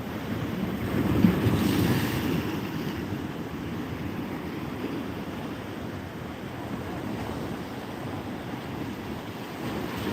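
Sea waves wash onto Pondicherry beach with wind buffeting the microphone, a steady rushing surf roar that swells louder near the start and then settles into a constant wash, with no talking.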